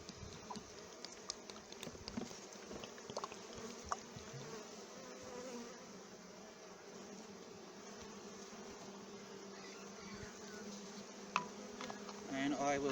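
Honeybees buzz steadily around a hive feeder as syrup feed is poured in for them, a dense continuous hum close by with a few brief louder swells and no talking.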